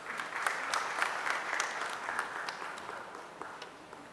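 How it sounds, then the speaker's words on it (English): An audience at a product launch event for a metal 3D printing machine breaks into applause, a steady, moderately quiet patter of many hands clapping with no voices over it. "Jagannath sir, please welcome with a round of applause."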